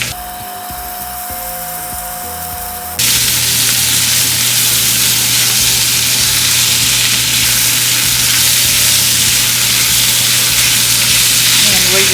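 Beef frying in a hot pan with its fat, cooked toward golden brown for penne pasta; a loud, dense, continuous sizzle that swells abruptly after a quieter opening and then crackles steadily throughout.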